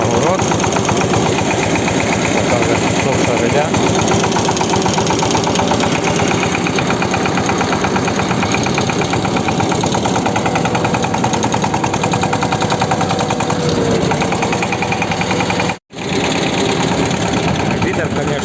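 A motor cultivator tilling a garden plot for potato planting, its engine droning loud and steady throughout with a brief cutout near the end.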